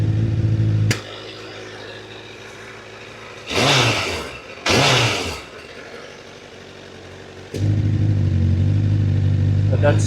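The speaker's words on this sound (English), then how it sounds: "how much difference the exhaust sound with this servo closing and opening" A car's exhaust idles loudly with its servo valve open, drops to a muffled hum when the valve closes, then swells back to full volume, with brief talking in the quiet middle stretch.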